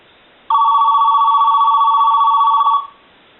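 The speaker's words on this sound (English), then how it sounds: "So we'll go ahead and do low and ring it." An AT&T 210 Mickey Mouse telephone rings on its low setting, a single electronic trilling burst of about two seconds that starts and stops abruptly, close and alone against near silence.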